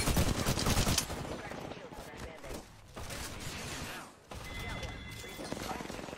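Rapid automatic gunfire bursts in an Apex Legends match, loud and dense at first, then continuing in quicker, sharper volleys with players talking over the shooting.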